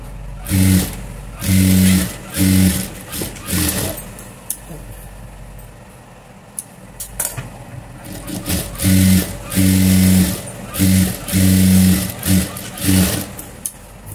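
A sewing machine stitches a puff sleeve blouse in loud, close bursts of fast whirring, stopping and starting several times with a quiet pause midway.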